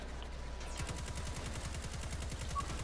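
Rapid automatic gunfire from shooting enemies in a video game, a fast even stream of shots starting after a brief pause and continuing steadily, fairly quiet and distant in the mix.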